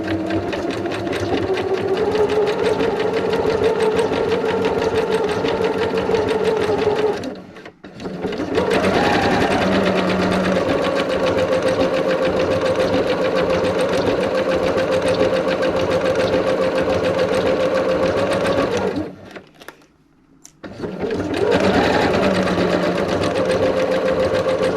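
A sewing machine runs a zig zag overcast stitch along a fabric seam, whirring loud and close in two long runs split by brief pauses, then starting up again at the end.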